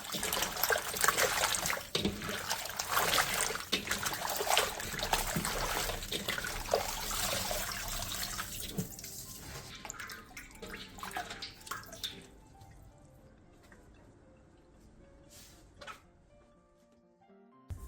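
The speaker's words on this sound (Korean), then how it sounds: "다 절인 배추와 무는 물에 2번 정도 헹궈낸 뒤 물기를 충분히 빼놔주세요" Salted napa cabbage and radish are rinsed and swished in water, a steady splashing and trickling that is loud at first, then thins into scattered drips and handling sounds.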